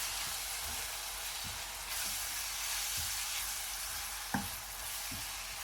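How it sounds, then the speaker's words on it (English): Two chopped onions and a whole bulb of chopped garlic sizzle in oil in a pan, a steady close broadband hiss that runs throughout. Faint soft taps and stirring clicks recur every second or so, with one sharper knock near the end. "Let them sizzle and soften for about 5 minutes."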